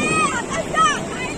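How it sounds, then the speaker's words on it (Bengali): Ocean waves roll and break on a beach in Goa, a broad wash of surf mixed with wind buffeting the microphone and faint people's chatter in the background. "সব থেকে বড় ঢেউ আসছে"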